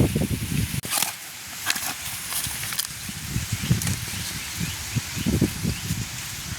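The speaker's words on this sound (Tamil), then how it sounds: "சரியான காற்று வர அடிக்குது." Strong wind blows across an open village field, a steady broadband rush with gusty swells and rustling, close and fairly loud, with occasional knocks and no talk.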